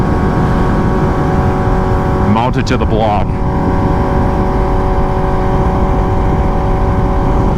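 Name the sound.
2021 Kawasaki ZX6R motorcycle with new full system exhaust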